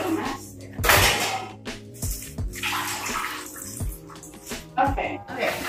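Water from bags is emptied into a sink in an apartment kitchen, with loud splashing gushes, a few sharp clunks and drips, and a voice in the background.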